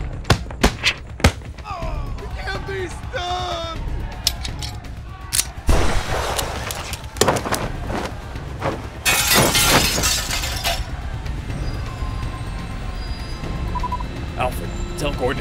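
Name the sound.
audio play explosion effect, courthouse blowing up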